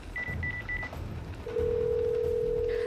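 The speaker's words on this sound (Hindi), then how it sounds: "उसने अपना मोबाइल उठाया और पुलिस का नंबर डायल किया" Someone dials the police on a mobile phone: three short, even keypad tones, then a steady ringback tone that sounds clearly and continuously to the end.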